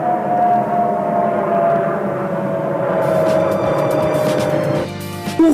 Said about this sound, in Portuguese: vamos apanhar mesmo aí com um ruído grande com o avião passar por cima.